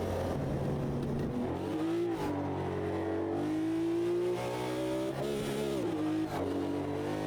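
A racing car in Automobilista 2, version 1.6.8, with heavy wheel spin, its engine screaming loud and close with no break, the pitch climbing through the revs and dipping briefly at each gear change.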